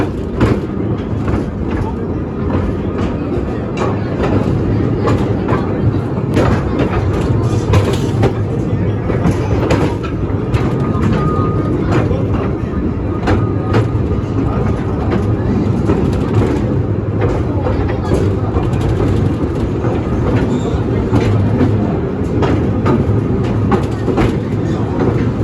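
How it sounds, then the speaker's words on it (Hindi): A train rolls through the Khewra Salt Mine with a continuous loud rumble and rattling clatter of wagons that persists throughout, with voices mixed in. "तो लोग साइड पर हो जाएंगे और हमारी ट्रेन गुजर जाएगी।"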